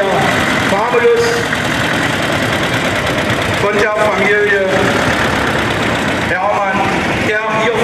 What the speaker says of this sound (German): Von Glasreise wurde dieser Motor als Wasser- und luftgekühlten Zweizylinder-Motor gefertigt.